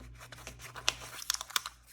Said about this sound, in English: With the new powder stick, you just take off your sticker